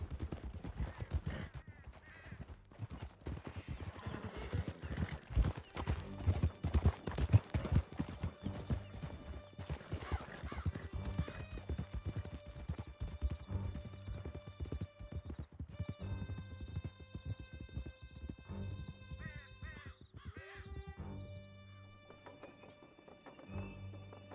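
Horses gallop hard through a canyon in Red Dead Redemption 2, a dense, continuous clatter of hooves with an occasional whinny, loud and close throughout.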